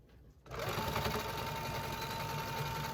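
A sewing machine set to stitch length 7.0 runs steadily to close the edge of a sublimation-printed hair scrunchie, its motor hum starting abruptly after a short quiet moment and continuing close and even with no talk.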